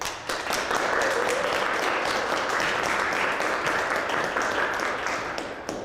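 Audience applause greets a performer at a music and poetry event for nature, a dense, steady crowd clapping that stays loud and even for several seconds before easing off slightly at the end.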